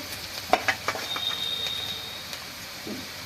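Whole cumin seeds and chopped onion fry in hot oil for a village-style fish curry, giving a faint, continuous sizzling hiss with a few soft taps near the start.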